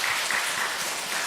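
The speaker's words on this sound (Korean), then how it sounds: "우리 송가대 여러분들에게 감사와 격려의 박수 크게 한번 하겠습니다" A church congregation applauds the choir after a hymn, a brief steady burst of many hands clapping together, fairly loud and without voices.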